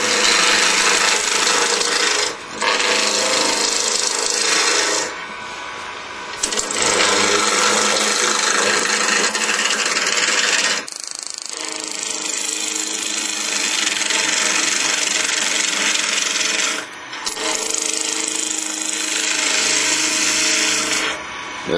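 A large skew chisel rides the bevel across spinning wood on a lathe, producing a loud, continuous rasping scrape in long passes separated by brief pauses, with no talk.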